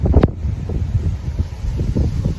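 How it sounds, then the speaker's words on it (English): Gusting wind buffeting an outdoor microphone, a loud, steady low rumble with brief stronger gusts, no voice over it. "wind's picking up on this bit"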